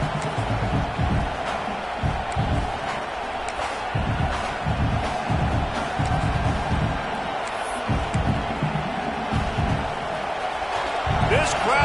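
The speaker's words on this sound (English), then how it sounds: "This crowd bringing the energy and noise early." A large stadium crowd at a football game roars steadily and loudly throughout, a continuous wash of cheering with scattered shouts rising above it.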